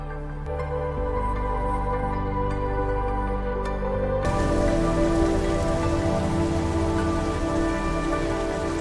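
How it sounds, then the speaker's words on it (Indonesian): Steady rain pours down onto surfaces, a dense, continuous hiss that grows heavier and louder about halfway through, with no voices. "Karena turun hujan, mereka memutuskan untuk berteduh di depan sebuah restoran"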